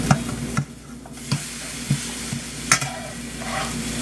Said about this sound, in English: So we're going to let it fry on the other side.